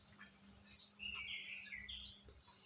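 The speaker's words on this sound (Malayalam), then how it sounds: "നല്ല സൗണ്ട്, കിളികളെയെല്ലാം സൗണ്ട്." Small birds chirp after rain, a soft scatter of high tweets with a brighter burst of calls in the middle, fairly distant against a quiet outdoor background.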